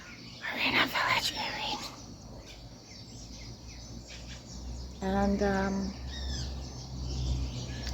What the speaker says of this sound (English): listening to the birds waking up and going about their business